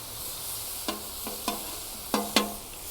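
Jambalaya spread across a 360 XL griddle, giving a steady quiet sizzle with four sharp scraping strokes of a spatula against the metal surface, heard alone.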